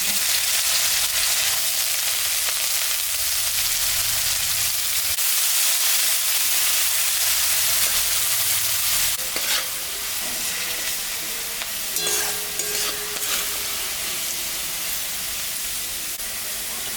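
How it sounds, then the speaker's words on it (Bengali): Cut potato fries in hot oil with dried red chilli and black cumin in a wok, giving a continuous loud sizzle, with stirring scrapes and bursts of spattering partway through. "একটা আলু কেটে রেখেছি, এখন একটু ভাজা ভাজা করে নেব"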